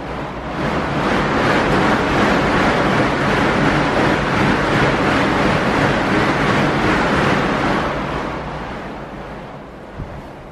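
Strong, steady wind rushing against a rider on a smooth, quiet new machine, a loud continuous broadband roar filling the whole clip and easing slightly near the end.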